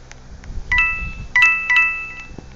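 A telephone rings with short electronic tone bursts, two or three brief melodic chirps repeated in quick succession, fairly loud and close, with no talk.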